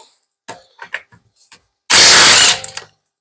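A socket ratchet set to reverse loosening wheel lug nuts during a DIY tire swap: a few sharp, scattered clicks, then a loud, harsh half-second burst, then two more quick clicks close by.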